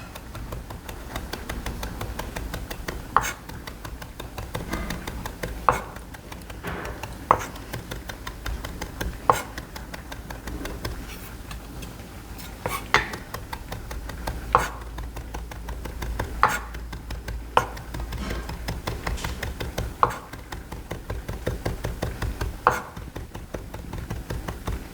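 A knife minces plucked herb leaves with a spoonful of water on a cutting board, a steady patter of soft taps punctuated by sharper, irregular chops, close and moderately loud with no talking.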